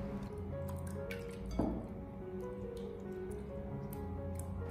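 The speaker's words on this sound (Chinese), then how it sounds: "用手将它反复的里里外外的给它搓洗一遍，把鸡脚上面的老泥给它搓洗下来" Raw chicken feet, with the toenails removed, are scrubbed by hand in a basin of water. The sound is soft, close squishing and light splashing with an occasional drip, fairly faint and steady.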